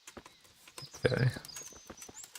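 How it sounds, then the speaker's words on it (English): A summoned horse in Kingdom Come: Deliverance clip-clops on approach, a quiet patter of hoofbeats that briefly swells, with faint game ambience behind it. "You press triangle to summon your horse"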